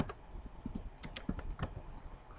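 Commands are typed on a computer keyboard to configure a router, a quick, irregular run of light keystroke clicks at moderate volume with no voice over them.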